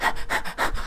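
A dog pants just outside a door, three or four quick, close, rhythmic breaths in under a second.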